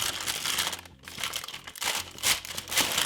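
Parchment paper crinkles and crackles as it is pressed into a buttered cake tin for a Jamaican black fruit cake, close and irregular with short pauses between crumpling bursts, no voices.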